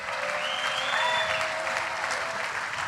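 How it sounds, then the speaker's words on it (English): Crowd at a King of the Motos drivers meeting gives a big round of applause for the course director, steady dense clapping filling the whole stretch at close range. "Big round of applause for course director Josh Shecker."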